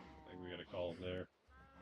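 Sheep bleating in the video game Minecraft, a string of short harmonic bleats that sound close and fairly loud, followed by a quieter low murmur.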